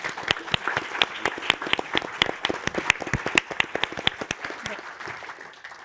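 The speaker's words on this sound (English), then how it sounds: "Big round of applause for our panel" A smaller audience applauds a panel discussion on youth and solar energy in Kenya, the individual claps distinct and rhythmic, fairly close, tapering off toward the end.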